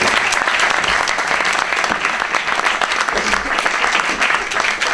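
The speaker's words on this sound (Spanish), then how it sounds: "Podéis aplaudir, a los leones" A theatre audience gives dense, sustained applause for performers in lion masks, many hands clapping loudly and steadily for the whole stretch without pause.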